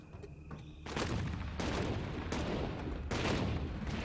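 Cannon fire in a swamp castle video game: several heavy blasts, with a burst near the one-second mark and more at about 1.6, 2.3 and 3.1 seconds, each followed by a rumbling tail.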